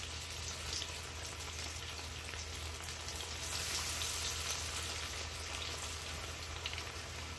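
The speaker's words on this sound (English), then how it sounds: "Now you'll see it when it's done frying, because I like to concentrate when I fry" Food fries in a pan of hot oil that is not overcrowded, giving a soft, steady crackling sizzle that stays even from start to finish, with no voices.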